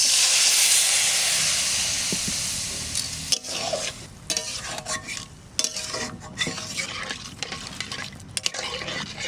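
Water poured into a pan of chana dal curry with coconut and mustard bursts into a loud hiss that fades over several seconds. Rough scraping stirring follows.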